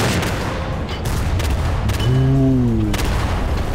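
Gunfire from a weapon in Garry's Mod, a few sharp, loud shots spaced apart, with a brief electronic tone ringing between them and steady game noise underneath.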